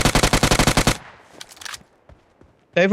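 Automatic gunfire in the PUBG Mobile video game: a loud rapid burst of about ten shots in about one second. Scattered faint game sounds follow, then another loud burst starts at the end.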